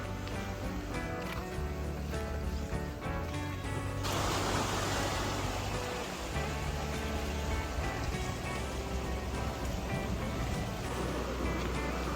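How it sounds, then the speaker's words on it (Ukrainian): Pacific Ocean surf off Yoshishima Island in Japan rolls in as a steady, loud broadband wash, swelling noticeably partway through as a wave breaks nearby, with no voices over it. "А ось і він, Тихий океан."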